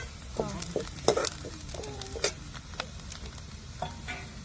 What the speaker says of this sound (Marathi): आता आपल्याला ते परतायला टाकायचं आहे आणि कांद्यामध्ये चांगला लाल परतून घ्यायचा